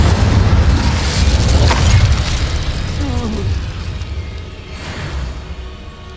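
A heavy whooshing fire blast from the Incendio spell in Hogwarts Legacy, a loud low rumbling burst that slowly fades, with a smaller flare of sound near the end.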